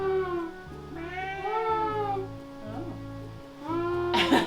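A person imitates a cat's meow several times in a row, drawn-out and wavering, with a short burst of breathy noise at the end; the voice is close and fairly loud.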